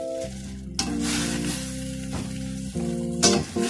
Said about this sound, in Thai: เราก็ใส่ผักตำลึงกับผักหอมไปนะนี่นะคะใส่ไปเลยมี2ผักจะได้น่าทานมาก